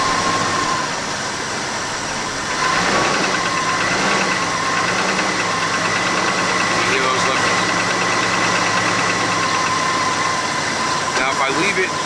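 A Jaguar XJ engine runs steadily after being put in gear, its continuous mechanical drone carrying a faint ticking from cold lifters, with a shift in tone a few seconds in and speech over it.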